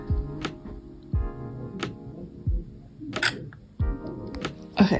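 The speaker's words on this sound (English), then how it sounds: "I like the little shutter sound it makes." A few sharp shutter clicks from a Sony ZV-1 camera, spaced irregularly, with soft handling noises and faint background tones between them.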